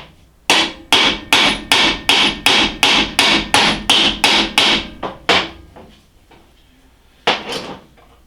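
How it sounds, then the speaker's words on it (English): Hammer tapping a bearing out of its housing on a South Bend lathe: about a dozen sharp, evenly spaced metallic knocks, close and loud, then a pause and one more pair of strikes. "Let's see if we can tap this out a little bit."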